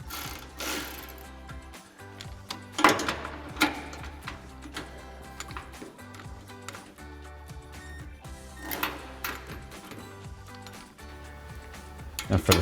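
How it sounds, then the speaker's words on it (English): A 13mm socket ratchet tightens exhaust bolts on a 2021-2023 Ford F-150 during an MBRP dual exhaust install, with bursts of quick clicking ratchet strokes heard close over steady background music. "grab a 13mm socket to tighten these down"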